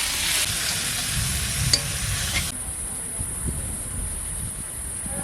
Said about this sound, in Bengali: ভাজা হয়ে গেছে, তেল ছেড়েছে,